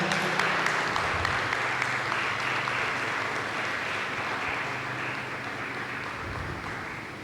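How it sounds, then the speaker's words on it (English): A crowd at a government ceremony handing over an Augusta 139 helicopter from Rivers State to the Nigerian Air Force claps in a steady, even wash of applause that continues throughout without pause. "we appreciate them with a round of applause"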